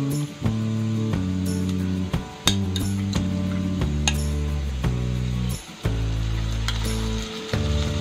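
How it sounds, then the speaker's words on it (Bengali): Onion with ginger-garlic paste frying in a pan for a katla fish kofta curry, a steady sizzle with a low hum beneath and occasional sharp clinks of utensils against the pan. "ভালো করে একটু ভেজে নেব।"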